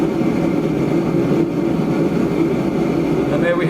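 A battery-powered MCS BLP17M gas heater ignites and settles into a steady, loud roar with a strong low rumble, continuous for a few seconds with no one speaking.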